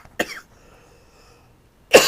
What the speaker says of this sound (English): Sorry about the cough, folks.